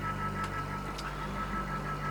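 A boat engine runs steadily at a reduced 980 RPM during a calm night passage off Mexico, giving a continuous low droning hum with faint higher hiss, alone and without talk.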